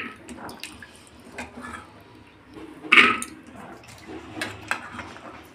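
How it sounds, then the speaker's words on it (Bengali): Soaked dried peas are washed by hand in water before pressure cooking, with soft close sloshing and swishing that includes one louder splash midway. Light clinks of a pot or vessel sound underneath. "এটাকে আমি ভালো করে ধুয়ে প্রেসারে দিচ্ছি।"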